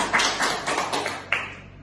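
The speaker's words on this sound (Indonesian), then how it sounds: "tepuk tangan buat yang ketiga" Children in an Indonesian classroom clap in short bursts, several quick rhythmic rounds of light hand claps close by, fading out near the end.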